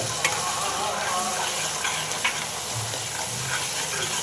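Chana paneer masala frying in oil with turmeric, a spoon stirring through the pan over a constant loud sizzle, close up with a few faint clicks and no talk.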